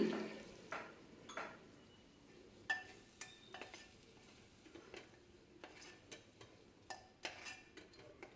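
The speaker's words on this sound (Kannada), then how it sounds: "ರುಬ್ಬಿರೋ ಅಂಥ ಮಸಾಲೆನೂ ಅದೇ ಒಗ್ಗರಣೆಗೆ ಹಾಕಿ ಸ್ವಲ್ಪ ಹಸಿ ವಾಸನೆ ಹೋಗೋವರೆಗೂ ಹುರಿತಾ ಇದ್ದೀನಿ" Ground masala fried in tempering oil for a sprouted horse gram sambar, a quiet low sizzle under scattered clicks and scrapes of a spoon stirring against the pan, with no one talking.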